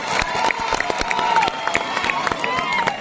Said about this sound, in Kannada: ಒಂದು ಸಲ ಚಪ್ಪಾಳೆ ಕೊಡಿ ನೋಡೋಣ